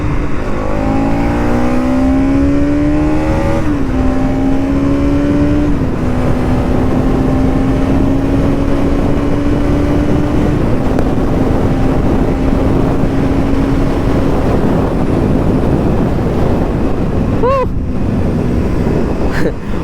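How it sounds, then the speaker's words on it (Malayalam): A 2025 Bajaj Pulsar NS 200 motorcycle engine revs under throttle, its pitch climbing in stepped surges as it accelerates, loud and continuous with a brief dip near the end. "ഞാൻ ത്രോട്ടിൽ കൊടുക്കുമ്പോൾ മൊത്തം ഫുള്ള് ഇങ്ങനെ ഒരു ലാഞ്ചലാണ്"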